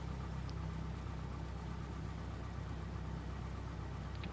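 A light aircraft engine idles at 1000 RPM in a flight simulator game, giving a steady, even low drone with a faint rumble, constant and unbroken throughout.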